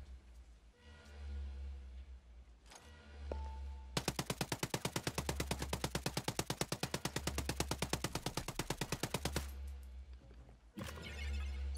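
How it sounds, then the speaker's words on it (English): Hostile automatic gunfire in Ghost Recon Breakpoint, a long rapid burst of evenly spaced shots lasting several seconds, loud and close, with scattered single bangs and game ambience before and after. "Hostiles are firing."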